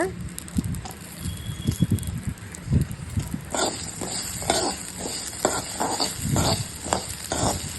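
Small shallots and garlic cloves sautéed in a pan for tomato kuzhambu, a constant sizzle with scattered low knocks at first, then brighter, regular spatula scrapes in the second half, close and moderately loud.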